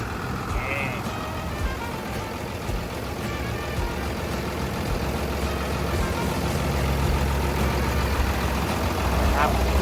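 A Komatsu WA380-8 wheel loader's engine runs at a steady idle, a constant low rumble close by, with someone talking over it throughout.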